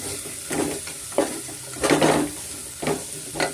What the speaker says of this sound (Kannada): ತರಕಾರಿ ಎಲ್ಲ ನೀಟಾಗಿ ನಾನು ಸೇರಿಸ್ಕೊಂಡು ಸ್ವಲ್ಪ ಮಿಕ್ಸ್ ಮಾಡ್ಕೊಳ್ಳೋಣ. ಸ್ವಲ್ಪ ಅದು ಎಣ್ಣೆಯಲ್ಲಿ ಸ್ವಲ್ಪ ಫ್ರೈ ಆಗಲಿ.